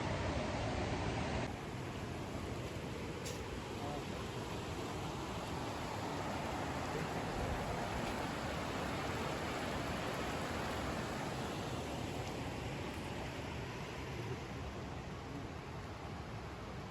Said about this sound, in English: We're at a waterfall. You can probably hear it.